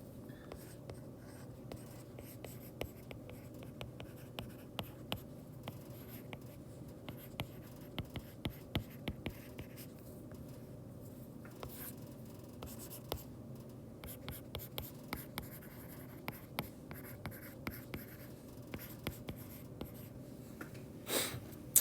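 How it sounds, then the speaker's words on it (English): Chalk taps and scratches across a board during a physics lecture on friction, close and sustained, with repeated short strokes and sharp clicks and no speech. "I'm going to write out the word friction."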